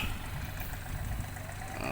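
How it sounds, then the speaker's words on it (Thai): Farm tractor engine pulling an e-tok cart near rubber plantations in Phu Sang, Phayao, a low, steady chugging rumble at moderate distance, continuous and unbroken over the short span. "รถไถลากรถอีตอกมาครับ"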